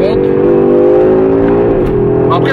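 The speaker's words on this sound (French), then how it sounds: "C'est ça, c'est un 5 cylindres. C'est pas très agressif, mais ça ronronne bien quand même." The five-cylinder engine of an Audi RS3 drones loudly and steadily in second gear at 40 with a smooth, purring hum, its pitch shifting slightly near the end as it pulls.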